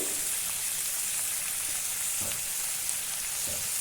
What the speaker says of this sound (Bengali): তো এটাকে আমি খুব সুন্দর করে ভেজে নেব